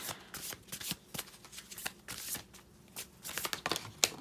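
A spellcasting oracle card deck is shuffled by hand up close, producing rapid crisp riffles and papery flutters in uneven bursts, fairly quiet, with no talk over them.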